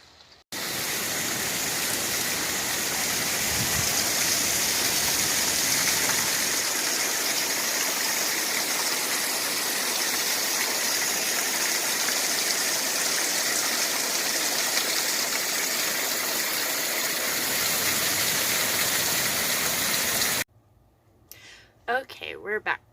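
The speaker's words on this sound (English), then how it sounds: "It's one of my favorite waterfalls here in Oregon." An Oregon waterfall roars as a loud, continuous broadband rush for about twenty seconds, then stops abruptly and gives way to quieter sounds.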